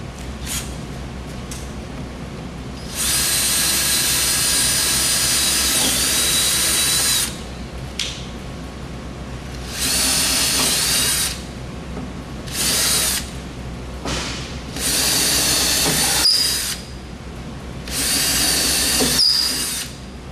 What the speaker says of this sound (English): you're just going to want to mark out all the spots you want to drill and then pop them